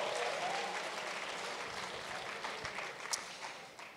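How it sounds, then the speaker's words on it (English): Audience at an awards ceremony applauding, a steady wash of clapping from a large crowd that holds evenly throughout, fairly distant and soft, with no voices over it. "Give yourselves a huge round of applause before we carry on."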